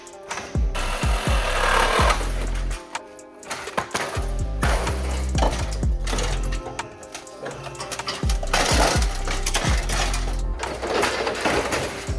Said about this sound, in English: the first step of working on a 240SX always involves the Sawzall